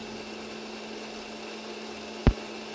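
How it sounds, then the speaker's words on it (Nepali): Mixer grinder blending cream to make ghee at home, a steady, even motor whir held throughout, ending in one sharp thump near the end. "फेरि यसलाई बिर्को बन्द गरेर हामीले फेरि मिक्सरलाई अन गर्ने"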